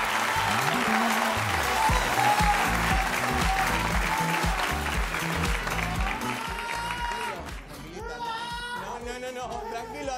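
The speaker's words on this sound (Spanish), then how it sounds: "Así que un aplauso para ustedes," A television studio audience applauds steadily and loudly on set, a dense continuous clapping that carries on for several seconds before cheers and voices rise toward the end.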